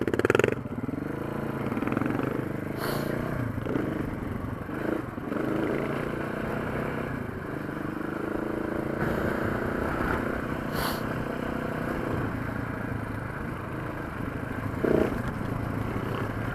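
KTM 690 and Husky 701 motorcycles on a ride: a continuous engine drone mixed with wind rush, with occasional clatter and brief louder bursts, held steady throughout.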